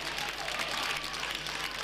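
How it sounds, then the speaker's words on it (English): Bandy supporters of Västerås fill a stadium with dense, continuous applause and crowd noise at a World Cup final against Villa Lidköping, sustained and close throughout. "the supporters of Västerås who are gathered here in the stadium are cheering, they're applauding their team"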